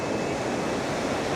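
Big ocean waves break on a Langkawi beach in the low season, a loud, steady wash of surf and wind with no break and no voices.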